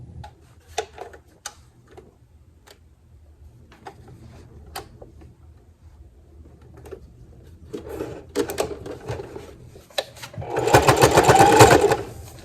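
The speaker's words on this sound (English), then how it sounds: "I'm going to top stitch it right now" A sewing machine top-stitches a fabric wallet: scattered light ticks and clicks lead into a loud, fast continuous run of stitching near the end, heard up close.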